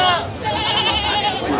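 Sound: goats bleating at livestock market

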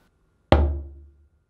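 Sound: bass tone on a moderately tuned djembe

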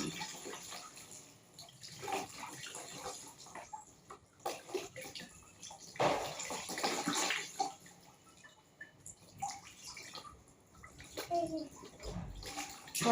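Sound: water being poured over a child while bathing

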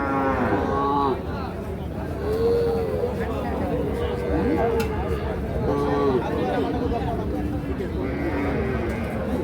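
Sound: cow with calf mooing at cattle market

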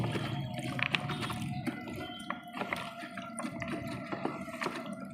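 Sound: water running while washing stem vegetables and pumpkin pieces

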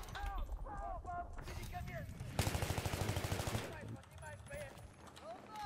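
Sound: gunfire in a shooter video game

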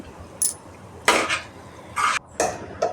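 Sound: chicken being stirred with ginger garlic paste in oil in a pan

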